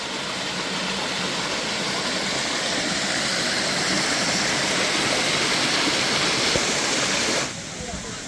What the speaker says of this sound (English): Beautiful stream right here.